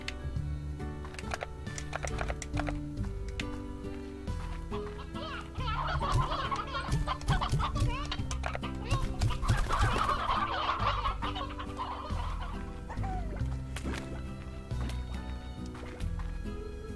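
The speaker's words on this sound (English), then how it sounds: "So you got roosters and hens," Roosters and hens cluck and crow in the Slime Rancher video game, with repeated busy fowl calls layered over steady game music, heard close and moderately loud.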